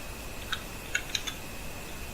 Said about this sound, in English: we are typing here